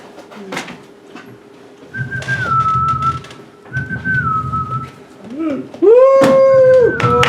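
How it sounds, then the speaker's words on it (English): Several whistled tones, some long and steady, others gliding up and down, come in bursts with pauses between them, mixed with background voices and rustling, and end in a louder sweeping whistle. "Hope Rufus can hear us whistle from that far."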